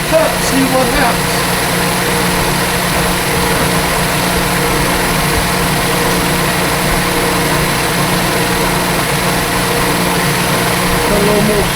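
A metal tool block takes its first machining cut, giving a steady, loud mechanical drone with a constant motor hum throughout and no clear rise or break.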